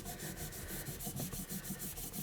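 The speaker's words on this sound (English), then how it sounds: "all we're going to do with a microfiber cloth is just work that into the paddle" Microfiber cloth rubbing polish into raw aluminium car trim, a steady rhythmic back-and-forth wiping with regular strokes, close and fairly quiet, no talking.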